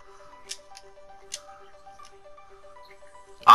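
A Fortnite treasure chest gives off a faint, steady shimmering hum of sustained tones with a few soft sparkly chimes, before a sudden loud burst at the end.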